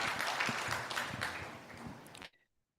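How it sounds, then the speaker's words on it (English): Audience applause after a talk at a security technical session, a dense wash of clapping lasting over two seconds before cutting off abruptly into silence. "Can we have a big round of applause for him?"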